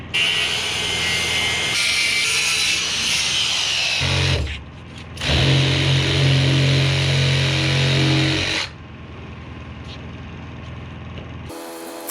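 A power saw trims a structural insulated panel (SIP) during a DIY home build. It makes two long, loud, steady cutting runs separated by a brief drop, then fades to a quieter hum.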